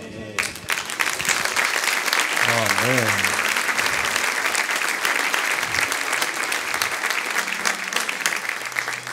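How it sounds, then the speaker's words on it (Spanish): A congregation at a church marriage confirmation service breaks into sustained, dense applause, many hands clapping close and loud, with a voice speaking briefly over it. "Le damos un gran aplauso, mi hermano,"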